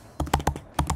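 Quick, crisp taps on a computer keyboard, about half a dozen close keystrokes in an uneven burst, as code is typed with no speech.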